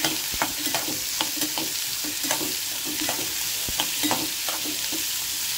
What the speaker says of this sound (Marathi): असं मीडियमवर भाजू द्यायचा कांदा।